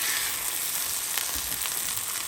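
Very thin chicken slices for keto chicken parm sizzle in an oiled pan, a bright continuous close-up frying hiss with faint crackles throughout.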